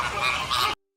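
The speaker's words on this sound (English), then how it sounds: "flamingo," A flamingo gives one loud, nasal, honking call that holds steady for under a second, then cuts off abruptly into silence.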